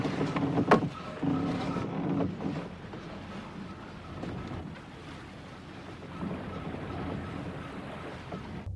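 A boat motors across the open sea with a low, steady engine rumble under rushing water, wave wash and wind buffeting, louder at the start and then settling into a continuous drone.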